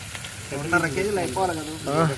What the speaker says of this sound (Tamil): பாருங்கள், சிக்கன் உள்ள விழும்போ எப்படி இருக்குன்னு பாருங்கள்.